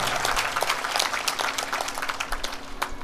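A satsang audience gives thin, half-hearted applause, with scattered, uneven claps that rise and fall for a few seconds without building into a full ovation.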